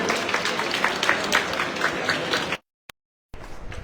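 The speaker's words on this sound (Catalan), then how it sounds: "Per aplaudir." Audience applauds after a youth wind orchestra's march, a dense burst of clapping that cuts off abruptly into silence, then a brief return of crowd noise.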